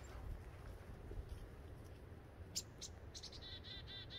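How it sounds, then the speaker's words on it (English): A chickadee gives a few high, thin calls in a Canadian backyard, faint and somewhat distant over a low outdoor rumble, the short notes clustering near the end. "Oh, we got our first chickadee."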